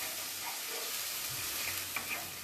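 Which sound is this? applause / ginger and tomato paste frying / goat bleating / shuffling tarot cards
ginger and tomato paste frying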